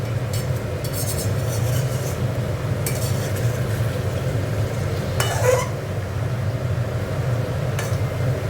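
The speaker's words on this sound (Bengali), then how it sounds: "একটু নেড়ে দিচ্ছি।" Mixed vegetable labra being stirred in a pan, with a steady sizzling hiss and a few light clinks of the utensil against the pan, close and even throughout.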